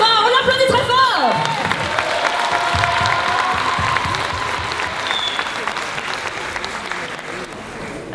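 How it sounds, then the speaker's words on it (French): Loud audience applause with cheering and whoops at a dance-school choreography show, a dense wall of clapping that follows a short musical sting and carries on steadily. "Bienvenue Sarah, on l'applaudit très fort."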